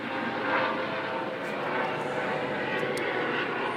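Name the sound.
helicopter flying overhead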